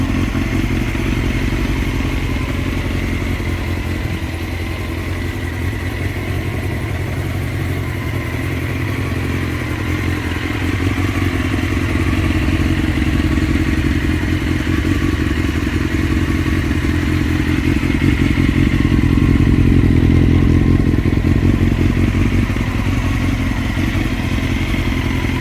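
Honda CBR954RR Fireblade engine idling while warming up, a steady close rumble that rises slightly in level toward the end, no talk over it.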